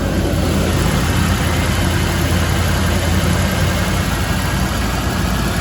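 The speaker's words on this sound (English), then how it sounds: "So it fires up nicely. The motor runs really good." A Ford engine idles steadily right after starting, a dense, continuous low rumble holding an even level throughout with no talking over it.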